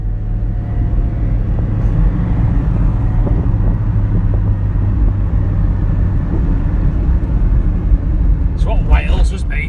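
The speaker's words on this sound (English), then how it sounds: "MX5 NA with a full 128 brake horsepower" A 26-year-old Mazda MX5 NA with 128 brake horsepower drives on Welsh roads, its steady low engine and road rumble filling the cabin continuously, with a brief higher sound near the end.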